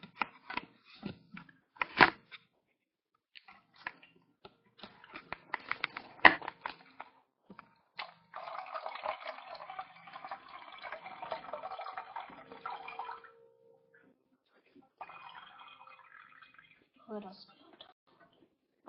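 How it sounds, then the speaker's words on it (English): Vinegar pours into a cup in a short gurgling trickle that lasts several seconds, preceded and followed by scattered clicks and knocks of handling, while a person speaks nearby. "we're going to pour some vinegar into this cup"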